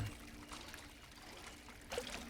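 Water trickles softly and continuously as a character drinks in the video game Cairn, quiet and steady, with a short louder splash near the end.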